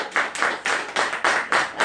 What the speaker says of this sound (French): On va applaudir pour...